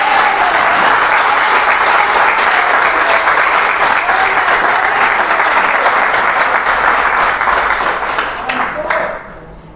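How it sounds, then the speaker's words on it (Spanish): A church congregation at a Sunday service applauds in a dense, loud, sustained wash of clapping that carries on for several seconds before tapering off at the end. "yo creo que se merece un aplauso"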